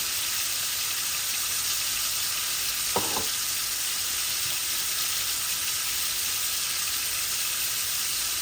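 Onions tipped into hot oil for a fish curry fry with a steady, close sizzle, and a short sharp clatter about three seconds in. No one talks.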